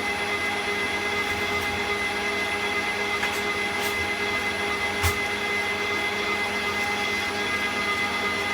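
An electric mixer whisks butter and caster sugar for biscuits, giving a steady, fairly loud motor whir with a few faint knocks against the bowl, close and continuous, with no talking.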